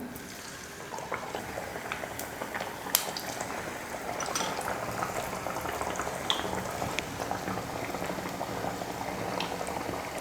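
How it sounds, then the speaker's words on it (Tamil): Mango vada dropped into hot oil for frying, a continuous bubbling sizzle with scattered crackles and pops, moderately loud and steady throughout with no talk. "இப்போ எண்ணெய் காஞ்சிடுச்சு, எண்ணெயில் போட்டுக்கலாம்."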